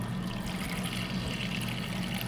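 Tap water running steadily into a measuring cup in a home kitchen, a soft continuous trickle and pour heard up close with no talking.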